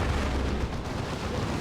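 Demolisher cannon artillery in the Warhammer 40k Dawn of War 2 strategy game, a dense rumbling barrage of booming blasts that blur into a continuous loud roar with no clear gaps.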